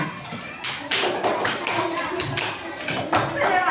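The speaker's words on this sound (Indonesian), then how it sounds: "Beri tepuk tangan" A group of fourth-grade children clapping steadily together in a primary school classroom, the rapid claps blending with some chatter and noise.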